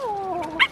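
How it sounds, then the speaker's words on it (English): A pug gives a small, high whining yelp that slides down in pitch, close and brief, followed by a short sharp yip. "That wasn't much of a bark, Rupert."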